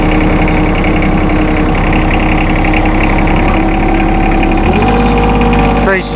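A 2016 John Deere 2025R compact tractor with a 24.2 hp engine runs loud and close with a steady throbbing drone, the pitch shifting as the loader is raised and the revs change near the end.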